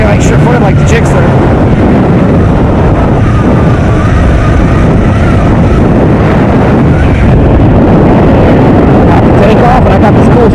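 Strong wind buffets a rider on a Honda 650L motorcycle at highway speed in open country, a loud, continuous roar of wind noise and engine rumble running throughout without a break.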